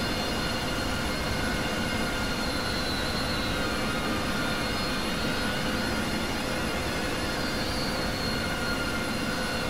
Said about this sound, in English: I've got my engine on, so I'll shut down the engine